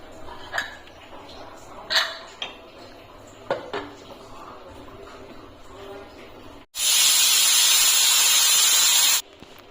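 A pressure cooker cooking tomato rice lets out a loud, steady close hiss of steam for about three seconds near the end. Before that come a few light clinks of utensils and a faint background murmur.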